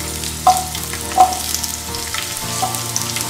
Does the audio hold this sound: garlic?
yes